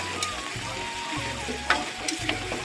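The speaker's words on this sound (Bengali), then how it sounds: "আদা দেওয়ার পরে মালটাকে ভালো করে একটু ভেজে নিলাম" Ginger paste frying in hot oil in a pan, a continuous close sizzle with a few sharp spatula scrapes and clicks over a low background hum.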